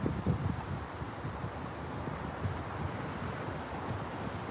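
Wind buffeting a handheld microphone outdoors, a constant low rumbling roar with gusty bumps, close and moderately loud, with no voice over it.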